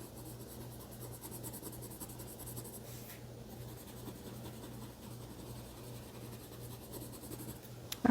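A pencil laying down a second layer of color on sunflower leaves in a drawing, a steady, quiet, close scratching rub that continues without pause and has no voices over it.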